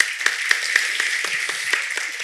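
An audience applauds at a book talk with several authors, a moderate indoor round of clapping with a few sharper claps standing out, no voices over it.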